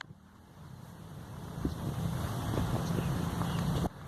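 Strong outdoor wind buffets a microphone, a rough continuous rumble that swells and gusts for several seconds before cutting off abruptly.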